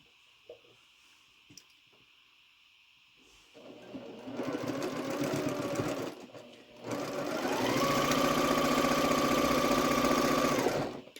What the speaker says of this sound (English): you're going to add your square to the rectangle, and we're going to sew corner to corner